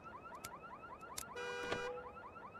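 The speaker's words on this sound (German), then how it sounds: "Und wenn wir es nicht schaffen, dann läutet die Alarmanlage." A car alarm in the video game Vicewave 1984 goes off during a failed lockpick, with repeated rising electronic whoops and a brief harsh blaring tone partway through, moderately quiet and with no talking.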